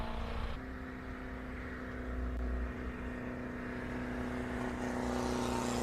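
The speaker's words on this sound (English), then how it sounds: "That little 750cc is pumping itself to get up the hill." Austin 750cc four-cylinder classic car labouring up a steep hillclimb course, a steady strained engine drone with a constant low hum, rising slightly in loudness toward the end, no voices.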